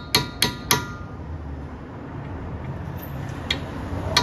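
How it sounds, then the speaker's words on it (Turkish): Three sharp hammer blows in quick succession strike a pointed punch set into a rear brake disc screw on a Nissan during a disc and pad change, followed by quieter metallic taps and a faint later knock. "Ondan sonra çekiçle bu vidayı döndürmeye çalışacağız"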